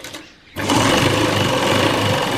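Up close, a sewing machine stitches the sides of a folded cloth mask, starting after a short quiet moment and then whirring loudly and steadily without pause.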